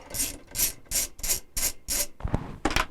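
A 7/16 bolt holding a Kenmore washer agitator is loosened with a ratchet: six even bursts of rasping clicks, close and steady, followed by a few clunks and knocks as the work shifts.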